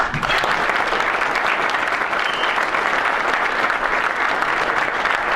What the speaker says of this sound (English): This time we'll have a round of applause for all of those winners